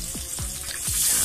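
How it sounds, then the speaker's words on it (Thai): Butter sizzles and crackles steadily in a hot pan, a bright hissing spatter with a few low thumps and scrapes underneath. "กระทะร้อนเรียบร้อยแล้วนี่ ใส่เนยลงไปเลย"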